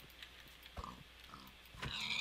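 A pig in Minecraft, during a Pixelmon gym battle, gives a few short grunting oinks spread over a couple of seconds, fairly faint, with brief thuds between them and no talk.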